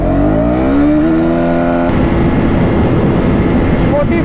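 KTM Duke 200 or 250 motorcycle launching in first gear, its engine note rising steadily in pitch as it revs hard, then a harsher roar takes over, loud and close with constant wind.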